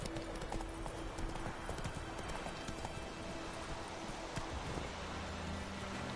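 The horse Roach gallops in The Witcher 3, its hoofbeats a fast, continuous clip-clop over steady game ambience, with a brief whinny-like cue. No one speaks.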